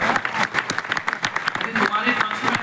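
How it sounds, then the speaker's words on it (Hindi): An audience at a religious festival gathering claps in quick, uneven bursts, with people talking over the clapping. "बेटियों ढंग से बजाओ ताली"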